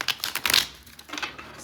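Tarot cards are shuffled close up in a quick burst of soft papery riffles, followed by a few lighter card flicks.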